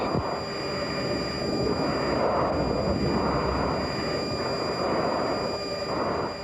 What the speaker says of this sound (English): As the F-16 spirals earthward, the camera plane has trouble just staying close.